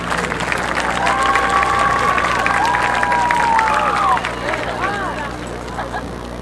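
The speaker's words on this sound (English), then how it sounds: "Let's give a big round of applause to our senior 2018 cheerleaders" Steady applause from a crowd with a murmur of voices at a high school football game, honoring senior cheerleaders, continuous for several seconds before easing slightly near the end.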